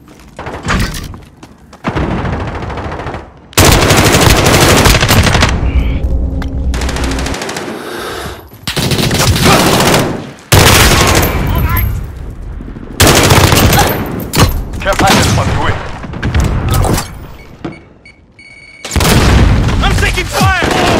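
Gunfire in a Call of Duty: Modern Warfare Hardpoint multiplayer match: loud, close bursts of automatic rifle fire and heavy booms broken by short pauses, with in-game voice callouts over the shooting.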